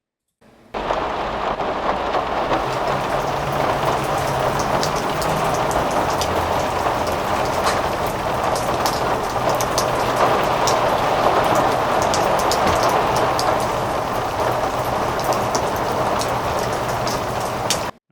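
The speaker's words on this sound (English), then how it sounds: "let's just hear those rain sounds together," Layered rain sound design for the game Hearthbound: dense, steady rainfall with drops pattering on surfaces and a low rumble beneath, continuous and even throughout, with no voices.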